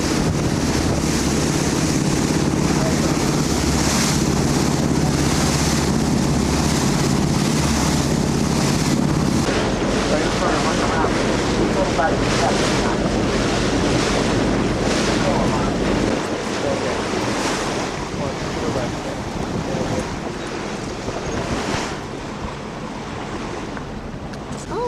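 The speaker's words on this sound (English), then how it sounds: "Boat's getting a bit rough now as we're coming out into the open sea." Rough open-sea waves surge and wind buffets the microphone aboard an Alaska cruise ship, a loud, continuous wash of surf and gusting air with the drone of the vessel beneath it.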